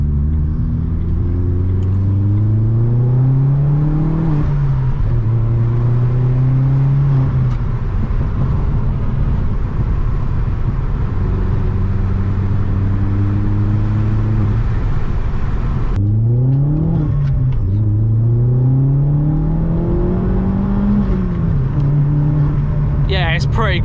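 A Vauxhall Astra VXR accelerating hard on a country road, heard from inside the car, its engine note climbing through several gears with brief dips at each shift, loud and sustained as occupants talk over it.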